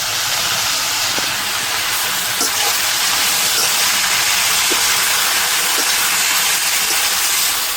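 Leafy greens fry in a pan, giving a loud, unbroken hiss with a few faint taps of a utensil beneath it.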